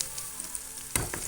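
Onion, ginger-garlic paste and turmeric sizzle softly in a pan, a quiet steady fry broken by a louder stir or scrape near the end.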